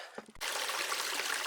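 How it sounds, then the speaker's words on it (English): Small creek running along a downhill trail section, a steady broadband rush of flowing water that starts abruptly after a couple of faint knocks and continues loud and even to the end. "It's a nice little creek now. Nice little running creek right here now."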